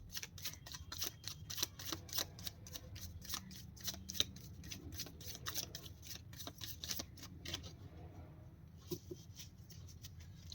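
Tarot cards are shuffled close up in quick, papery riffles and slaps, a dense run of crisp clicks that thins out toward the end.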